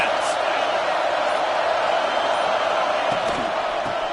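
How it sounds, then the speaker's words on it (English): Football stadium crowd roars steadily behind the defense on a big third down, a loud, continuous wash of cheering and yelling filling the whole stretch, with a commentator talking over it. "Big 3rd down as the crowd gets behind this defense"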